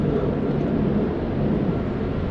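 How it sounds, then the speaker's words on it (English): An aircraft passing over downtown Miami makes a steady, continuous low droning roar that holds evenly throughout, with no voices. "That sounded like a helicopter. I didn't see a helicopter. That sounds like an airplane."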